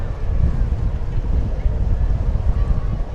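Strong wind at Port Canaveral buffeting the microphone, a loud continuous low roar with gusty surges, heard up close and alone.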